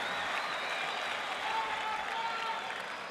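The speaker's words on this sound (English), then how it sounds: "the crowd erupts again at the effort of both these players" A large tennis crowd at the 2010 US Open final applauds loudly and continuously, a dense sustained roar of clapping with a voice faintly beneath.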